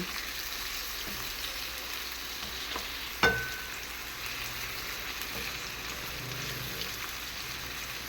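Chicken wings fry in hot oil with a steady, close crackling sizzle that continues throughout, broken by a single sharp clink near the middle, with no talking.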